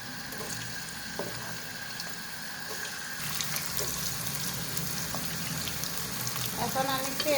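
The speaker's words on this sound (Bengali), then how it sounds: "এখন আমি তেল দিতেছি" Oil sizzling in a pan for beef bhuna makes a steady close hiss that grows louder and busier partway through, with faint kitchen clatter underneath.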